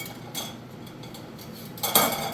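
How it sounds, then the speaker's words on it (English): Tongs and a slotted spoon clatter against a pot of braised lamb shanks in rustic ragu, with light metallic clinks scattered throughout and a louder scraping clank near the end, close and fairly soft. "with our tongs and our slotted spoon"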